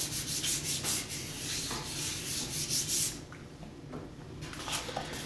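Steady abrasive rubbing of sandpaper over a heavy paper surface being prepped for airbrushing, repeated close strokes that are louder for the first three seconds, then quieter, softer scrubbing.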